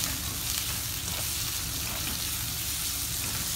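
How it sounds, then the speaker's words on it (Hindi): Chopped onion and capsicum frying in a pan and being stirred, with a loud, steady sizzle that never stops. "अब हम इसके अंदर शिमला मिर्च डाल देंगे, उसको भी स्टर करेंगे।"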